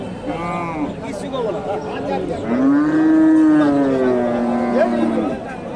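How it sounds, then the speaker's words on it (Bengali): A Friesian dairy cow at a busy cattle and goat market moos in long, loud, drawn-out calls close by, with the crowd's talk and market bustle continuing underneath. "ফ্রিজিয়ান গাভি দেখা দেখি চলতেছে"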